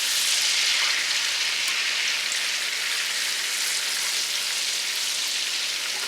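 Minced garlic, about a tablespoon, sizzles in browned butter over medium-low heat, a steady dense hiss and crackle running close and fairly loud without pause and with no talk over it.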